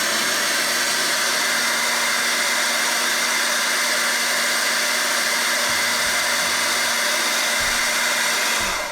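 A heat gun blows steadily, warming the adhesive on a seat cover for a 2012 Ford F-350 Gold Series, a constant close roaring hiss with a low hum that drops out briefly near the end.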